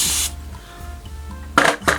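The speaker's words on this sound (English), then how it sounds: "I'm going to spray it a little bit." A spray bottle mists water onto acrylic paint, two quick close hissing spritzes near the end after a brief earlier hiss, fairly quiet.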